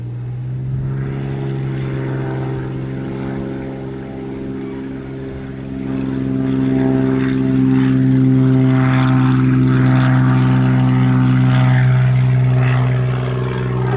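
A JetBlue airliner takes off from runway 07, its engines giving a strong steady drone with a tonal hum that swells louder midway through and holds near and powerful to the end.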